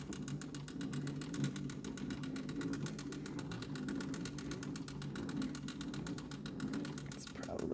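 A wind-up record player's crank is turned steadily, giving a continuous close ratcheting whir with fast, regular clicking throughout and no talking.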